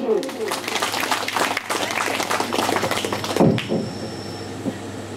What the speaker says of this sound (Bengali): জোর করে করতালি দিন